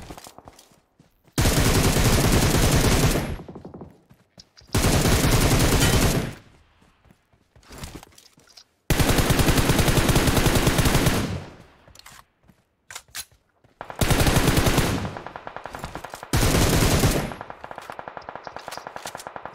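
Video game firefight with loud bursts of rapid automatic gunfire, several separate volleys lasting one to three seconds each, split by brief quiet gaps and quieter clicks.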